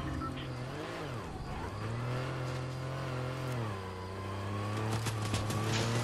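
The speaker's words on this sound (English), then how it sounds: "There's a car coming." A car engine drones steadily and close, its pitch dipping and then climbing as the vehicle draws nearer, growing slightly louder toward the end with no voices over it.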